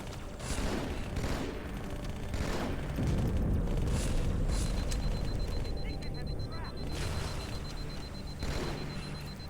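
Gunfire and grenade blasts in the Halo level Cairo Station: dense, continuous bursts of shooting with heavy booming explosions throughout, loud and sustained, with faint game voices mixed in.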